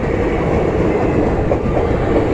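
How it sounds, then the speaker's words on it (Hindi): A passenger train rumbles past in heavy rain near Bareilly and Pilibhit, a loud, steady, close roar of wheels and cars with no voices. "और कमाल की बारिश के बीच ये बेहतरीन रेल एक्शन।"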